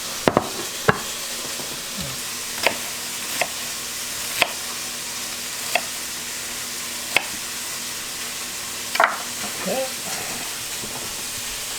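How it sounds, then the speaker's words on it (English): Onion browning in a pan for Hungarian goulash, a low steady sizzle broken by regular sharp clicks of a utensil against the pan. "There's the onion. Just browning this off."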